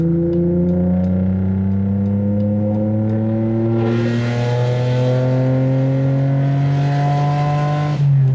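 A BMW E46 convertible pulls hard on a backroad, its engine and exhaust climbing steadily in pitch through the revs, loud and close, with a brief shift pause before climbing again.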